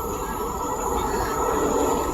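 A train at Manjathidal railway station gives a steady, loud rumble of rolling wagons with a faint high whine above it, running continuously through the short stretch with no talk.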